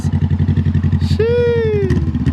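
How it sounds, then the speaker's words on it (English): A 2020 Honda CBR500R with its muffler deleted, idling loud and close with a rapid, raspy engine pulse that briefly revs upward, while people talk over it. "we did the muffler delete on the motorcycle"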